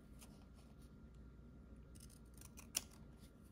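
Quiet snips of scissors cutting a piece out of paper, a few soft cuts ending in one sharper clip, with no talking.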